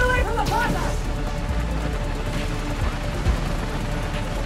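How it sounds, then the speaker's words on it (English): Gunfire in a snowy blizzard scene of the video game Spider-Man Miles Morales, a loud burst of rapid shots and booms at the start that fades into a steady roar of wind and game noise. "I need to head toward the gunfire."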